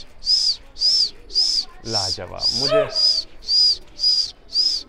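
Fighter pigeons coo in a slow, regular series of soft hooting calls, nine evenly spaced notes close by, while a voice briefly speaks over the middle of the sequence.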